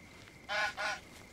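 A goose in the game Force of Nature 2 gives a close, loud double honk, two short nasal calls back to back over faint background ambience.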